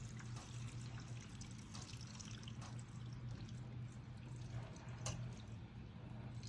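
Water trickles steadily out of a mini split air conditioner's drain tray, a continuous faint pour over a low mechanical hum.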